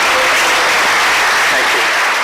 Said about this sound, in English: Let's give a big round of applause to our percussion ensemble.